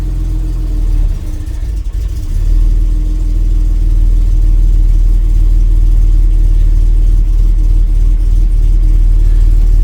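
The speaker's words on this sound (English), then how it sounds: "It will need a little bit of cranking a bit, but it should start all right." Jaguar XJC engine running steadily after cranking and a choked start, a loud, continuous low rumble close by with no talk.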